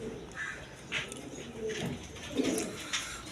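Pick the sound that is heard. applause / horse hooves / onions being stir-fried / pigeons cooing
pigeons cooing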